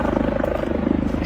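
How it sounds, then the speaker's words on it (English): Helicopter passing overhead outdoors near a theater, a steady loud pulsing rotor thump with rhythmic beating throughout, alone with no talk. "Helicopter."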